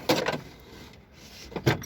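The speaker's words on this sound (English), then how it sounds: "Moving on to long drawers, top drawer." A long drawer on a vintage Craftsman toolbox slides open with a sharp metal scrape, followed by a quiet pause and a second clattering scrape as it moves again, close and alone.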